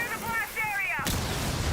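A breach charge blowing open a wall in the Rainbow Six Siege video game, a sudden loud blast that cuts in midway and rumbles on, heard alongside an announcer speaking over the gameplay.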